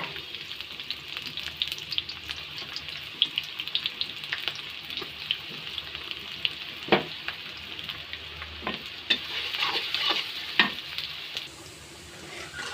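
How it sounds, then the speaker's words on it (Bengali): Onions and chilies sizzle and fry in hot oil for a Bengali prawn bhuna, with a steady bright crackle, occasional louder spatters and stirring scrapes, close and continuous with no talking. "যেগুলা তেল দিয়ে দিব, পেঁয়াজ মরিচ দিয়ে দিব"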